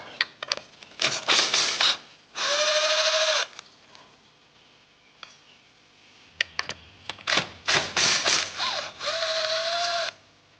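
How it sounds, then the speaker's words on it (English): A ratchet removes two bolts on a 2JZ drift truck, giving several short runs of rapid mechanical clicking separated by quiet pauses, close up and alone. "This right here is stopping it from coming off, so I gotta take these two bolts out first."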